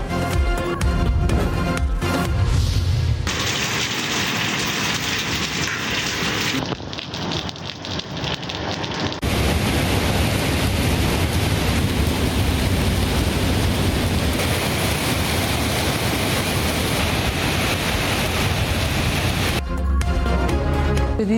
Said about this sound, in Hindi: इस्लामाबाद के मुख्तलिफ इलाकों में तेज़ हवाओं के साथ बारिश।